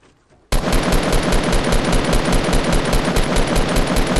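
Sustained rapid automatic gunfire in a video game bursts in suddenly after a short quiet moment, loud, dense and continuous without a break, with no voices over it.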